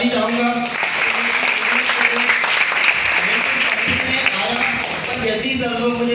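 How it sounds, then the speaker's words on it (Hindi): Audience at a business meeting breaking into loud, dense applause, a continuous roar of clapping close by with background music tones and some voices mixed in. "इनके लिए जोरदार ताली चाहूँगा।"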